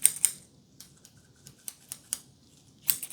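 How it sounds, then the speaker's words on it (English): Small scissors snip in crisp, close, quiet cuts, a few quick snips at the start and end with scattered single clicks between them. "It's also a scissor, but a smaller scissor."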